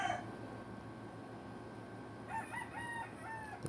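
An Old Dimper gamecock rooster crows once, a clear, fairly near call with a wavering, drawn-out tail, rising from a steady murmur of outdoor background noise.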